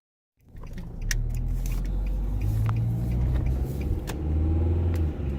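Car driving at night, its engine starting up abruptly from silence into a steady low rumble with road noise and occasional clicks heard from inside the vehicle.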